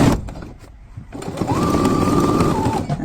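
A sewing machine stitches a shirt collar in place, its motor whirring steadily and close for about a second and a half after a short pause, with fainter mechanical rustle around it.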